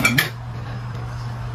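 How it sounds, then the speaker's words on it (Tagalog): Plates and cutlery clink briefly as dishes are handled for a home meal of fried bangus and pinakbet, a couple of sharp clatters at the start, then a steady low hum fills the room. "kuha na po kayo ng pinggan"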